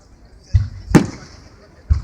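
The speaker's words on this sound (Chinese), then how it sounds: "专心看烟火" Fireworks bursting on Bonfire Night in Cambridge: a dull thump, then a sharp, loud crack, then another thump about a second later, with faint crowd voices in the background.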